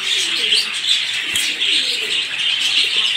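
Fancy ornamental pigeons cooing in a loft: soft, steady throaty coos layered with light chirps and an occasional wing flutter, continuous and fairly close, with no talking.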